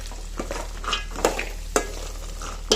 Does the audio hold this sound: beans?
yes